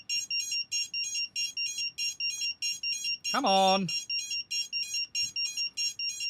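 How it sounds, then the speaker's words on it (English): A radio controller repeatedly emits short, evenly spaced high-pitched beeps while trying to connect, steady and close throughout, briefly overlapped by someone speaking. "Sorry about the beeping. Give it a second."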